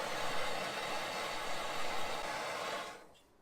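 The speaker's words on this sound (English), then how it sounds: "Fastest way to remove seam sealer, a torch." A torch burns seam sealer off a car strut tower on a Nissan 350z drift car, a steady loud roaring hiss close by that cuts off abruptly near the end.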